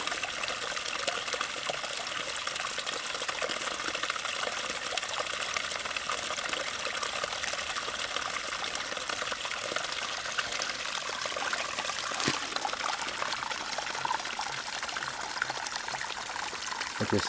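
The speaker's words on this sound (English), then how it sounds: "Found a little spring." A small mountain spring trickling on a climb toward Clouds Rest, a steady, bright splashing and dribbling of water running close and continuous throughout, with a faint click partway through.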